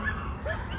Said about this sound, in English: that's my dogs on the other side of the window